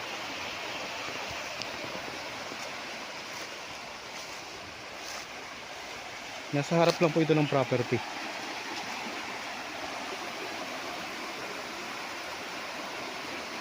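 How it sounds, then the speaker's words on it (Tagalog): Steady rushing water flows loudly and continuously through an irrigation canal beside farmland, with a person briefly speaking over it partway through. "Malakas ng tubig."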